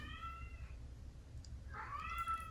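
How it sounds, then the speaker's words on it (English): A cat meows twice, the calls faint and somewhat distant, each rising and falling, one early and one near the end, over a low rumbling background. "She wants Cat to play with her, but he doesn't want to."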